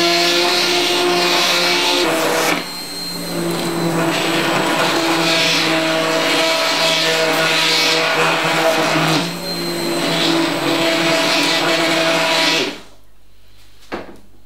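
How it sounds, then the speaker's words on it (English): A hand blender whirs steadily as it purees leek and potato soup. The loud, close motor drone dips twice in pitch, then cuts off near the end. "we're actually going to hand blitz it with a hand blender"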